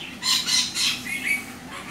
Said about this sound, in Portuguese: É um papagaio, um loris.